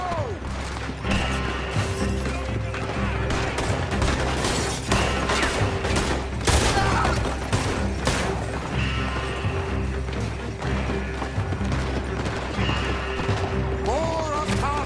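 Gunfight in Red Dead Redemption 2 with steady shooting and crashing mixed with horses and game music, dense and loud throughout while characters shout over the action.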